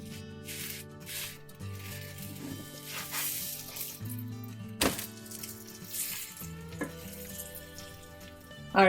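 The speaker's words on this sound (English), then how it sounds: "Our pan is on medium heat so that it will cook through and I will get the brown spots." Paneer paratha cooks in ghee in a pan on medium heat, a soft steady sizzle running beneath quiet background music with occasional small clinks.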